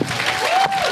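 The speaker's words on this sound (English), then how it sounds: "Round of applause. Let's give it up." Crowd applause and cheering erupt at a comic convention actor panel, a loud, dense burst lasting under a second with a faint whistle-like tone in it.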